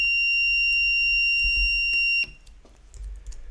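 An electronic alarm sounds a steady, piercing high-pitched tone for about two seconds, then cuts off abruptly, leaving quiet room noise.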